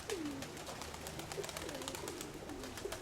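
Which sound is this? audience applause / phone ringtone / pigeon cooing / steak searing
pigeon cooing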